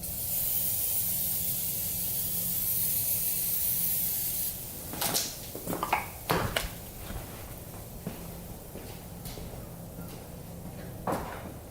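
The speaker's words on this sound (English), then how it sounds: "Alright, we got some easy off oven cleaner here. Take a little spray of that." Easy-Off oven cleaner sprays from an aerosol can onto a part from a vintage Honda CR80 motorcycle, a long steady close hiss followed by several short bursts and clicks, without talking.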